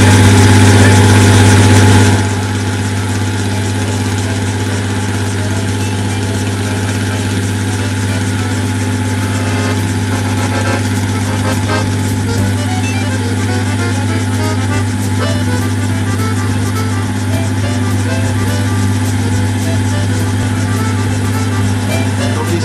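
A Bell helicopter's turbine engine and rotor running steadily as it takes off after refuelling, a loud continuous droning whine with a low hum, constant level throughout.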